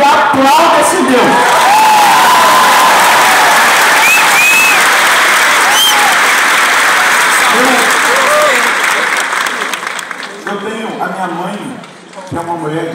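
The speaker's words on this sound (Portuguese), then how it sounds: "aplauda esse Deus." Loud, sustained applause from a church congregation during a Catholic service, with scattered cheers and whoops over the clapping, which thins out toward the end.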